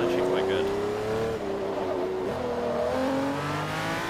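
A race car engine in Forza Motorsport 3 drones steadily at high revs with gear-shift pitch drops, continuous and fairly loud, while someone talks over it.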